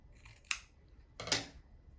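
Scissors cutting fabric pieces for a handmade zippered pencil case, two crisp close snips about a second apart in a quiet room.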